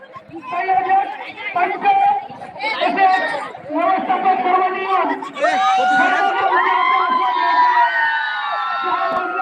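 Spectators cheer at an under-14 village volleyball match between Keli Kotul and Kelirumhanwadi, with loud, continuous crowd chatter, shouts and whoops close by that swell and hold steady.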